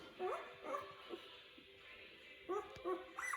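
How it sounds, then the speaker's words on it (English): A mother dog with her week-old puppies gives soft whimpers and high yips in short clusters, quiet and close, with brief pauses between bursts. "Talk to those puppies, Windy."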